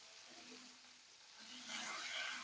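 Ridge gourd peel sautéing with lentils in a pan for chutney, a soft steady sizzle that swells a little louder toward the end.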